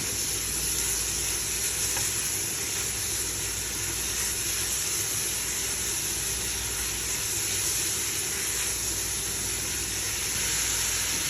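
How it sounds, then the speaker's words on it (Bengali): Carrots and onions fry in a pan while being stirred, giving a steady, loud sizzle and hiss that runs unbroken throughout, with faint scraping underneath. "নেড়ে নেব যেন গাজরটা আর পেঁয়াজটা একটু বাজা বাজা হয়ে আসে"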